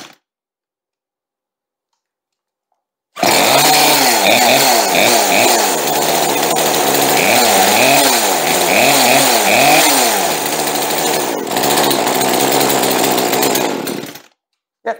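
A small Poulan chainsaw roars steadily near and loud for about eleven seconds, its pitch repeatedly rising and falling with the throttle because it will not idle, then cuts off abruptly.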